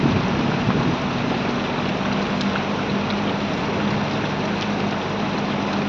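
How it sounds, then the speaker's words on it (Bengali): Heavy monsoon rain pours steadily beside farm fields, a dense, unbroken hiss that holds at the same loud level throughout with no voices. "এই দেখো প্রচণ্ড বৃষ্টি"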